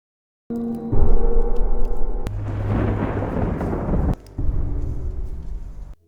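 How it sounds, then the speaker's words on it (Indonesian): Heavy rain and rolling thunder from a horror film, a loud, dense downpour with deep rumbling bursts that surge and cut off abruptly, with no voices. "Saat malam tiba, hujan deras turun."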